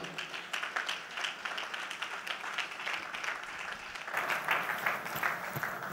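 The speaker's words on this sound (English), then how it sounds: "Please make welcome with a round of applause, Barrister Taiwo Akinlami" A room of teachers at an education event applauds as a barrister comes up to speak, the clapping holding steady and then swelling louder toward the end.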